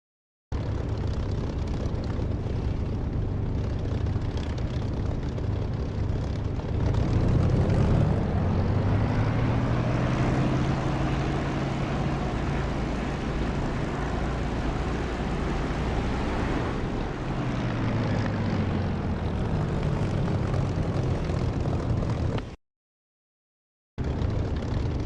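Simulated aircraft engine in the DCS flight simulator game, taxiing on a runway taxiway: a steady, loud propeller-engine drone that swells and shifts in pitch mid-way as the plane turns, then briefly cuts out near the end.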